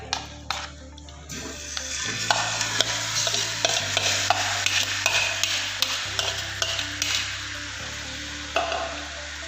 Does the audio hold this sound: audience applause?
no